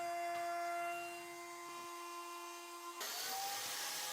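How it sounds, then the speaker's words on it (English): A steady motor hum is followed, about three seconds in, by a plate joiner spinning up to cut slots in wooden desk pieces. Its faint, broad whir runs to the end. "Then I cut some slots with the plate joiner for joining the side pieces to the desktop later on."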